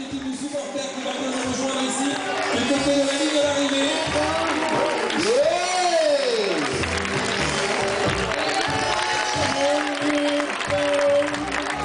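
Spectators applaud trail runners passing over rocky ground during the Ultra Trail du Mont Blanc, steady clapping and crowd noise running throughout with voices mixed in.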